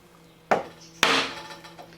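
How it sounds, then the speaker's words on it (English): Two sharp wooden whacks of a mallet on a chisel chopping a mortise in a piece of wood, close and loud with a short ringing decay after each, then quiet. "So the chisel is getting deeper and deeper with each cut, with each whack."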